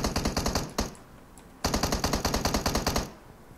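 Rapid automatic gunfire from a video game, loud and close, in two long rattling bursts separated by a short pause, with no voices over it.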